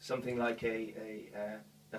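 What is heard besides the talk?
No everyday noise stands out behind the speech.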